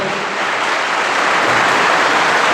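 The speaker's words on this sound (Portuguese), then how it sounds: "E se você crê que recebeu, Aplaude mais forte ainda, amém?" A church congregation applauds during a sermon, a dense, even wash of clapping that holds steady and loud throughout.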